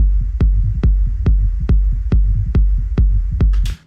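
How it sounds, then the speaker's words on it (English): Deep techno kick drum with a low sine-wave body and a noisy top layer, struck nine times in a steady four-on-the-floor pulse, loud and alone, ending in a short burst of noise. "So I'm gonna show you first the kick bass,"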